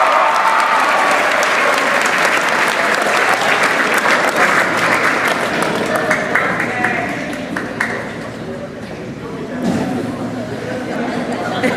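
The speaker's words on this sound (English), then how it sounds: "Let's give them a round of applause." Audience applauds at a junior high school awards day, a dense sustained burst of clapping with crowd chatter that gradually thins, then swells briefly again before settling.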